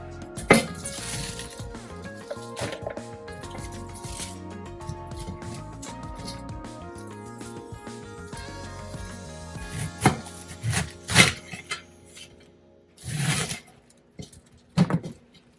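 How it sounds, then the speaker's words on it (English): A knife slicing through a cored cabbage for fried cabbage, with a quiet stretch followed by several sharp, irregular cutting thuds and crunches on a board, close up. "You can just absolutely just take your core out and just go ahead and slice it."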